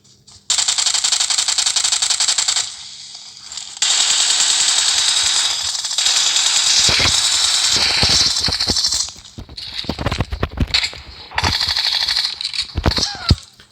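Automatic rifle fire in PUBG Mobile, loud sustained bursts of rapid shots with brief gaps between magazines, ending in scattered sharper shots near the end.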